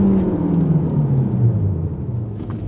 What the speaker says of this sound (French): En un coup de manettino, en 3 downshifts, on est en deuxième et on bondit jusqu'aux 7600 tours minute à peu près.